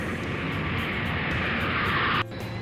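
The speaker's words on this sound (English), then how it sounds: "you are clear for takeoff." A toy jet airplane takes off with a steady, loud, rushing engine roar that holds constant and then cuts abruptly near the end before resuming, close and without talking.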